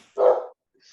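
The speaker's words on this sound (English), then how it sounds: "Which dog is screaming like that?" A single sharp, loud dog bark bursts out close by, followed by silence and a faint, high whimper near the end.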